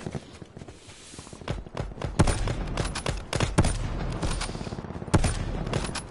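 Gunfire in a shooter video game comes as a string of sharp, loud shots in quick bursts, with scattered softer clicks and steps between them.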